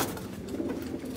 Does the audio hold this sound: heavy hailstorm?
no